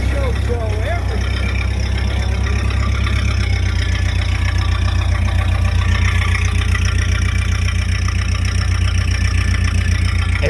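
A Model A rat rod engine runs on choke with a loud, steady, low rumbling idle close by, throbbing evenly throughout, while people talk over it.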